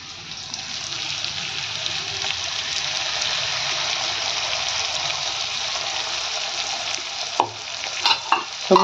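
Mustard paste fries with elephant apple pieces in a steady, hissing sizzle. Several louder stirring scrapes come near the end.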